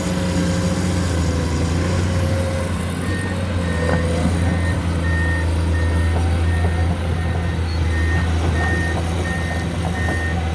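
A steady, repeating beep of a reversing alarm pulses over the low, continuous rumble of a Komatsu PC210-10MO diesel excavator idling nearby.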